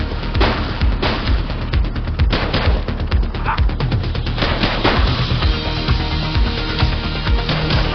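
Gunfire in the video game The Precinct, loud and close, with repeated sharp shots and rapid bursts running steadily through the whole stretch of a street firefight.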